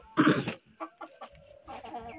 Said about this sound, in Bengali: ওই যে দেখেন আমাদের পুরো মোরগ, আর এটা কিন্তু মুরগি।